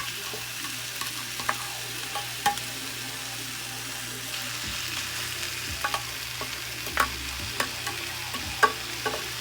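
King oyster mushrooms sauté in a pan with a caramelized mixture, a soft continuous sizzle with scraping stirs and occasional taps of a utensil against the pan, close and fairly quiet.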